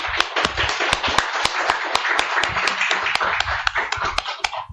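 Audience applause at a presentation ceremony: a dense, steady wash of clapping, close and full, with sharp individual claps cracking through for about five seconds.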